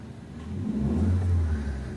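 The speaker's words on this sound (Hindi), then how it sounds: "अब मैंने दोबारा से स्टार्ट कर रहा हूँ, ये देखो।" A car engine is restarted and revs up, with a steady mid-pitched engine drone swelling in loudness and then easing slightly, close to the microphone and with no talking.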